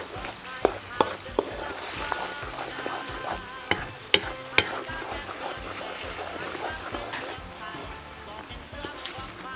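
Food sizzles steadily in a hot pan while a utensil clinks and scrapes against it in scattered sharp knocks, close up.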